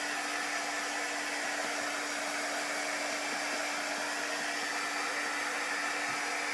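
A hair dryer runs steadily and continuously, drying a chalk transfer on a copper farmhouse tray, with a loud, even airflow whoosh and a constant motor hum.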